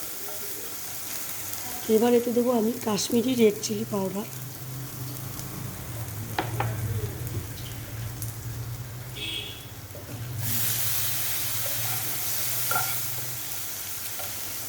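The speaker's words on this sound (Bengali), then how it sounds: "কষার সময় একটু সামান্য জল দিলে মশলাটাও ভাজা হয় আর মশলাটা পুড়েও যায় না।" Spice paste fries in a pan with a splash of water for a vegetarian curry, giving a steady close sizzle that turns into a brighter, hissing rush partway through, while a person talks over it.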